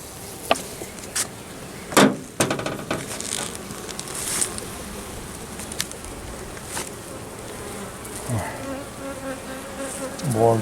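Honeybees buzz steadily around a small nucleus hive built from a recovered swarm, a close, continuous insect drone with a few louder passes and faint handling clicks, no talk.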